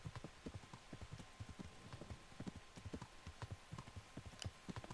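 Rain patters in the medieval world of Kingdom Come: Deliverance on PS4, while steady clip-clopping hoofbeats of a ridden horse thud underneath, all fairly quiet.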